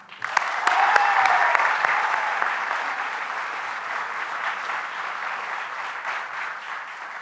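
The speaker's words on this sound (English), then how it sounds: "A round of applause for Gary." An audience at a university awards ceremony breaks into applause, sustained clapping from a crowd in a large hall that swells quickly, then eases slightly while continuing steadily.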